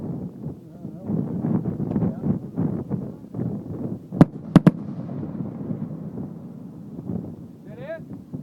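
Daylight fireworks shells from a professional display burst in a few sharp, loud cracks midway through, over steady crowd chatter and wind noise, with people talking throughout.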